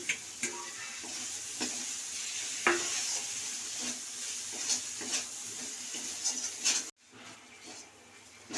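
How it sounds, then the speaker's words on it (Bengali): Fish and fried potatoes being stir-fried together in a wok, giving a steady sizzle with scraping stirs and light clinks throughout, close and fairly quiet, briefly cutting out near the end. "এবার এই ভাজা আলুটা রেখেছিলাম না, এবার এতে দিয়ে দেবো, এটা দিয়ে তাহলে কষবো"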